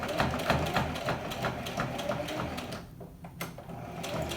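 A sewing machine stitches shirt sleeves and cuffs, its needle running in a steady fast mechanical rhythm, close and moderately quiet, pausing briefly before resuming.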